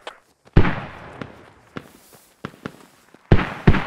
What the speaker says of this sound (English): I need eyes on these mortar drops on Bravo.